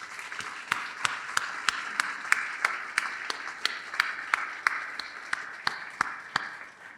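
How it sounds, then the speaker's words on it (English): An audience applauds for the Kennedy Foundation at a university nursing announcement, a steady patter of scattered, fairly distant hand claps with sharper individual claps standing out, no speech over it. "let's give the Kennedy Foundation a round of applause"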